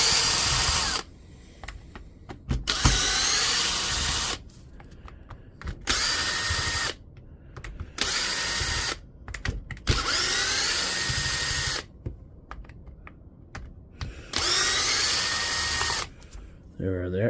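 A power driver spins out T20 Torx screws from a power tool in a series of loud, whining bursts, each lasting one to two seconds, separated by short pauses.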